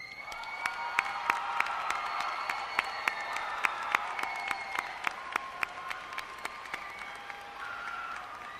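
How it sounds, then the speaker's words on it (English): Applause from a crowd at a 2010 high school graduation, steady clapping with sharp distinct claps standing out, sustained throughout with faint cheering underneath. "please join me in a round of applause"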